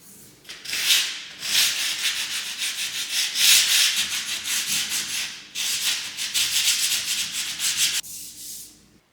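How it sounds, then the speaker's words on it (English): A power sander works a wooden stair on a Victorian stairwell with a shop vac attached to its nozzle, giving long, even rasping passes with short pauses and a brief stop near the end. "we were able to attach our power sander to the nozzle so that that was vacuuming away the stour as it was sanding."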